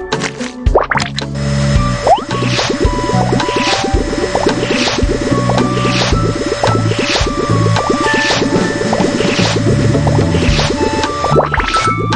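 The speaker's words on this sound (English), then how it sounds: "Your face is so dirty. Let's wash it clean." Cartoon game sound effects of a character's dirty face being washed clean: repeated squishy plops and drips over a bouncy music loop, loud and steady, no talk.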